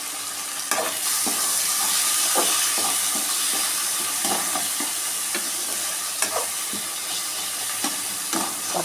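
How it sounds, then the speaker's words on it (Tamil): Curry leaves, garlic, onion and tomato fry steadily in a pan for an okra and egg stir-fry, giving a continuous close sizzle and hiss with a few light stirring clicks and scrapes and no talk. "கருவேப்பிலை, பூண்டு கொஞ்சம் பொரியட்டும்."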